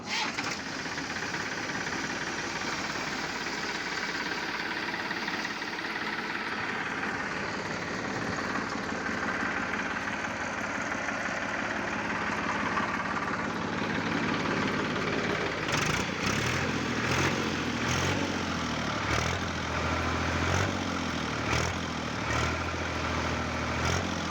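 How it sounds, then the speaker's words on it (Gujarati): An old New Holland 3037 tractor engine idles at close range with a steady, knocking diesel chug that holds throughout, and the rhythm turns more pulsed near the end. "ન્યૂ હોલેન્ડ 30-37 મોડલ છે આ ટ્રેક્ટર"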